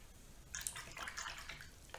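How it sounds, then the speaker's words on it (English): A watercolor brush is rinsed in a water jar, making faint, soft swishing and dripping splashes in short bursts close by in a quiet room. "I'm rinsing my brush"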